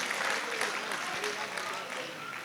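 Dense, steady applause from a mushaira audience fills the whole stretch, loud and continuous with a faint murmur of voices mixed in.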